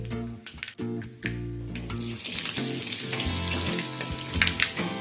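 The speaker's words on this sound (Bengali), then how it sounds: "এবার এই তেলের মধ্যে ফোড়নের জন্য আমি দিয়ে দিচ্ছি 1/2 টিস্পুন গোটা জিরে, 1/2 টিস্পুনের একটু কম গোটা সর্ষে।" Whole cumin and mustard seeds tempering in hot mustard oil in a pan, opening with a few clunks and rattles before a loud, steady crackling sizzle builds and carries on close up.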